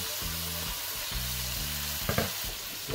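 Curry goat frying in a Dutch pot, cooked country style in Jamaica, giving a steady sizzle with a hum beneath and a brief scrape near the end as the pot is stirred.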